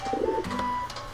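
A bird coos in Super Mario Maker 2, its soft game-sound calls repeating in a short sequence over light background music, clear and close with no talking.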